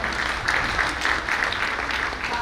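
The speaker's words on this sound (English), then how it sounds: "a big round of applause to them" An indoor audience at a conference opening ceremony claps steadily for a few seconds, dense, even applause without cheering.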